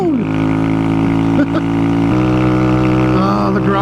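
A Honda Grom motorcycle engine revs on a dirt road in cool weather, a loud, continuous buzzing drone that climbs in pitch as it revs out, close and steady throughout.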